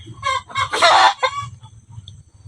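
Chickens cluck close by, with a loud rooster crow rising in the middle, followed by softer scattered clucks and low farmyard murmur.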